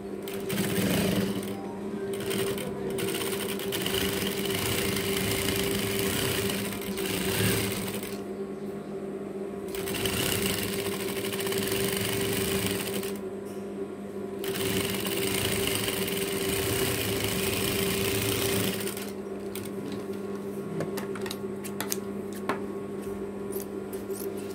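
A sewing machine serges the edge of a fabric sleeve, running in long steady whirring bursts with brief pauses between them, close and loud, with no talking.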